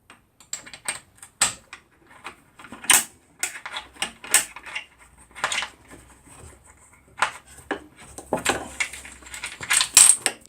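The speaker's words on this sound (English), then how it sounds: "4 bolts off with a 5mm wrench, Allen key." Allen key wrench loosening the bolts on a workshop MFT top, a scattered series of sharp metallic clicks, taps and light clinks at an uneven rhythm, close and fairly quiet, with no talk.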